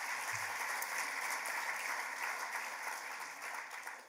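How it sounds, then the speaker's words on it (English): An audience at a writer series event breaks into applause, a dense, steady roar of clapping that holds for several seconds and begins to taper at the end. "So please give a round of applause for Jordan."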